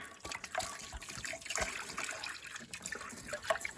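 Vinegar poured in a thin, uneven trickle onto a rusty, abused cast iron pan, faint splashing and dribbling close by with no one speaking.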